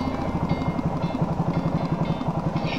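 A motorcycle engine fitted with a repaired PE 28 carburetor idles low and steady, its exhaust putting out an even, rapid thumping pulse that continues unbroken throughout.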